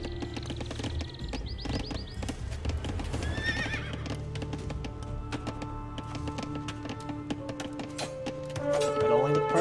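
Horses galloping with clip-clop hooves and repeated neighs and whinnies in the Age of Empires 2 Definitive Edition battle game, dense and steady over game music and clatter, swelling louder near the end.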